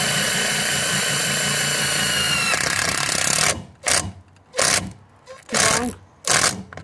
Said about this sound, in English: That's how you can drill it